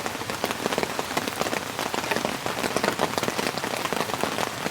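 Heavy winter rain drums on a tent during a solo wild camp, a dense patter of countless close drops pelting the fabric in an irregular, continuous rattle, with no voices.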